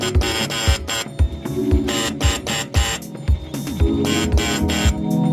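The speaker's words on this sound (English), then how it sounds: "this pneumatic machine proceeds to engrave the design onto any metal sheet" A pneumatic engraving machine works a design into a metal sheet, giving off loud rhythmic thumps and clatter with a steady whirring mechanical hum.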